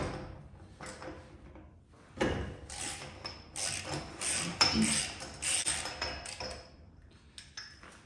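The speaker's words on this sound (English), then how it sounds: "Got our WM 265 tool here. We'll pop off this hub." A WM 265 tool works off a 2.5-inch Grand National wheel hub nut, giving a run of close metallic clanks, scrapes and rubbing knocks that come in bursts after a quieter start, with no talk.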